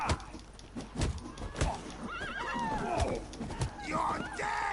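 A horse in The Witcher 3 video game whinnies amid clip-clopping hooves and thuds, the neighs rising and falling in short bursts over a busy, moderately loud game soundscape.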